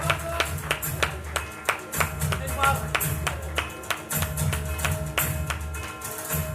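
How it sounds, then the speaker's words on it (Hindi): Applause at an award ceremony, sharp rhythmic clapping close by over a pulsing low music beat, the claps steady and loud throughout. "जोरदार ताली की गड़गड़ाहट हो जाए दोस्तों"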